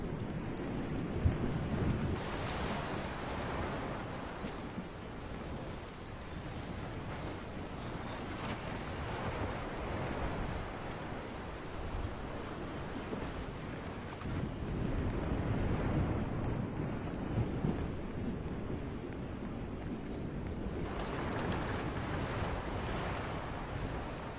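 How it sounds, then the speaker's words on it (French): Steady ocean waves at night in a Roblox pirate game wash and roll continuously, mixed with a rushing, windy hiss, with no voices. "le nombre de vagues la nuit, c'est aberrant"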